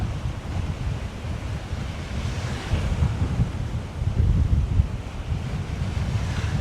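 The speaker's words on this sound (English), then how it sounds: "the sea keeps moving constantly." Heavy Danish sea churns beside a pier, a continuous low rumble of breaking waves with gusting wind rushing over the microphone, swelling slightly midway and staying restless throughout.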